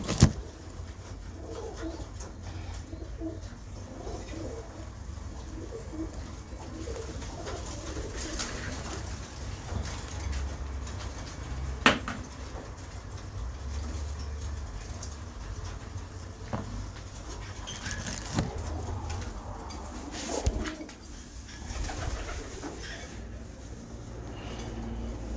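A mated pair of pigeons coos softly and steadily over a low background hum, with occasional faint clatter, and no talking.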